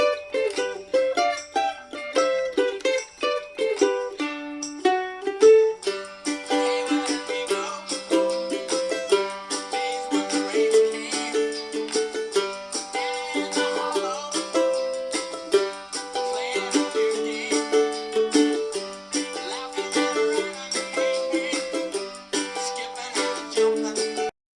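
A mandolin plays the double-stop intro to a song: bright, plucked melodic lines that start sparse, then fill out with denser strummed chords over about twenty-five seconds, clear and close with no voices.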